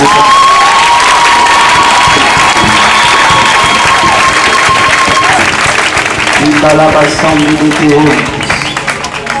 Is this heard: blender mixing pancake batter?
no